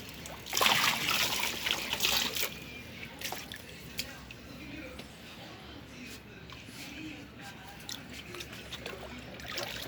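A toy pool water gun is filled with water, giving trickling, dripping and splashing sounds with a louder burst near the start, while someone talks over it.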